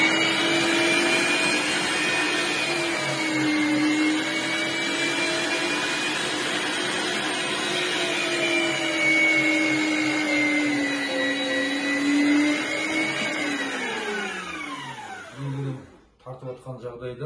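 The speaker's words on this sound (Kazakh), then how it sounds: "Мясорубканы қосамыз." An electric meat grinder mincing saiga meat runs as a loud, steady motor whine close by for about sixteen seconds, its pitch wavering under load, then winds down abruptly near the end.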